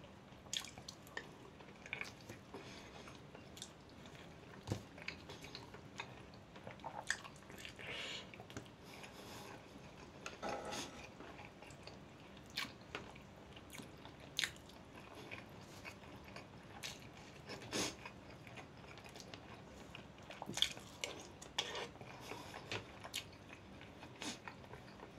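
Chewing eggplant caviar and boiled eggs: quiet, close, irregular wet clicks and soft bites scattered throughout a long stretch, faint against a low background with no talking.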